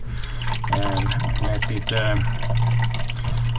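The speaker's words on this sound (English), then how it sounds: "I haven't run the water maker for about 10 days now" Aboard a sailboat, a water maker runs with a steady low mechanical hum and a rush of flowing water underneath, while someone talks over it.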